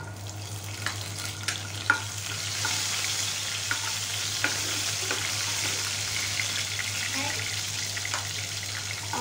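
Garlic sizzles in hot oil with mustard seeds, cumin and fenugreek as it is stirred. A continuous close frying hiss is broken by scattered clicks and scrapes of the spoon, over a low steady hum.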